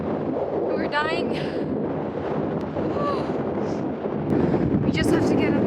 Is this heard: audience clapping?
no